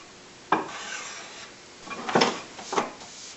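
A hand plane works the wooden edges of a handmade fishing tackle box, giving three separate scraping, rasping strokes at close range with short pauses between them.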